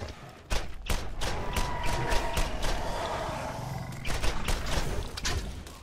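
Skag creatures in the video game Borderlands roar and snarl up close amid thumps and gunshots, a dense, continuous burst of harsh bestial noise lasting several seconds.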